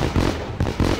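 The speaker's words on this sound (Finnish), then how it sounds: "se syttyi nimittäin tuo raketti" Rocket fireworks exploding in the driving game My Summer Car, a run of loud crackling bursts close by with brief gaps between them.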